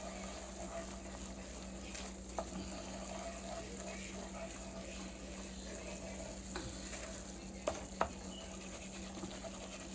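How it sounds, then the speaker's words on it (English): A flour gravy roux is stirred in a skillet, giving a steady low sizzle with soft scraping from the spoon and a couple of brief clicks, with no talking. "we're going to just keep stirring till our gravy starts turning brown"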